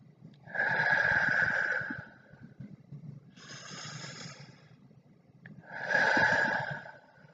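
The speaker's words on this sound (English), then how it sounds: "lazy 8, you're going to breathe kind of slow." A person does slow, deep breathing for a calming exercise, two long audible exhales with a softer inhale between, each breath drawn out and close.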